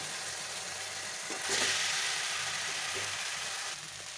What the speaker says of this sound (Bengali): সিমিটা যে সিদ্ধ করে রেখেছিলাম এবার দিয়ে দিলাম